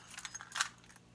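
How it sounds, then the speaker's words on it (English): A set of everyday-carry keys jangles briefly and close, a quick cluster of bright metallic clinks with one sharper chime, alone and quiet. "Keys."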